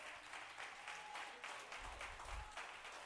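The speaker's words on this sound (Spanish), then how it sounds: "Si usted le va a dar un aplauso" A church congregation applauds in a steady wash of clapping heard from the room, moderately distant, with a few low thumps underneath.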